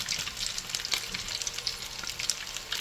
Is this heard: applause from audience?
no